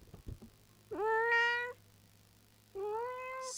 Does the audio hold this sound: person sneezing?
no